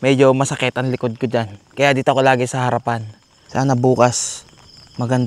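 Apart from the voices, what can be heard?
No distinct noise like a dog, phone or traffic.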